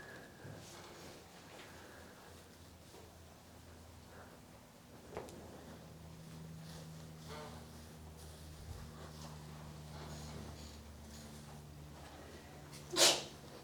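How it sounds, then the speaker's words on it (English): A single sharp sneeze bursts out near the end in a quiet lecture room, loud and brief against a low background hum. "We'll have to edit that sneeze out in post"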